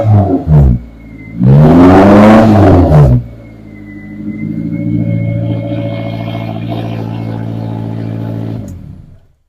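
A classic Alpine Renault 1300S engine blips twice, then revs hard in a loud roaring burst before settling into a throaty idle that gently rises and falls, heard up close.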